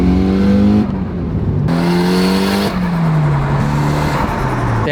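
Mitsubishi Evo 7 fitted with a screamer pipe exhaust, revved hard and loud in repeated rising and falling bursts, with a brief drop between pulls and no talking.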